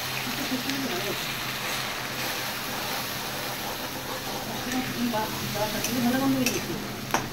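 Onion, ginger paste and green chili frying in a pan in a home kitchen, a steady dense sizzle and hiss with soft stirring scrapes, close, with a person talking over it.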